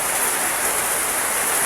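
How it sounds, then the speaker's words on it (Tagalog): Heavy rain drums on a roof in a steady, dense, loud hiss with no breaks. "maingay yung ulan, hindi nyo ako masyadong maririnig. Maingay sa bubong."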